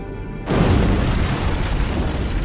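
An antimatter charge detonates aboard a starship in a Halo: Combat Evolved cutscene, a sudden loud, deep boom that cuts in out of a quiet hum and rolls on as a sustained roaring rumble.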